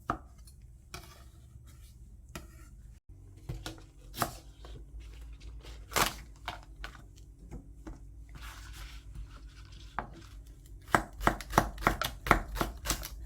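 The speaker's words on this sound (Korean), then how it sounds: "남겨두었던 달걀 지단은 얇게 썰어서 준비해주고" A knife slicing thin egg crepe garnish on a cutting board, sparse taps at first, then a quicker run of sharp, close chopping strokes toward the end.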